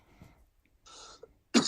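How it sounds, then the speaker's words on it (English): A single short cough bursts out near the end after quiet moments with faint throat noises. "Coughing."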